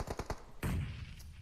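Gunfire in an online shooter video game: a quick burst of three or four sharp automatic shots followed by a heavier, booming blast that rings out and fades, with no voices.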